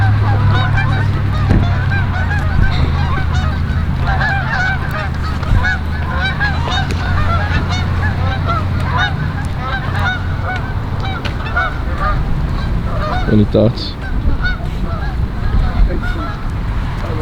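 Geese honk steadily and loudly near the water, a dense, overlapping chorus of calls over a constant background rumble, with a brief spoken question partway through.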